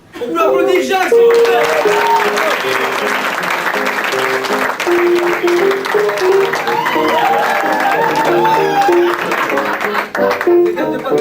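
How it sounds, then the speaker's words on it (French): At a café-théâtre show in a Club Med resort in the Alpes d'Huez, the audience gives Jacques steady, sustained applause. The clapping stays loud for about eleven seconds, with musical tones and voices running underneath. "On peut applaudir Jacques,"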